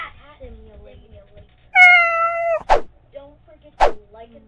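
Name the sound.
cat meowing in the video game Cat Simulator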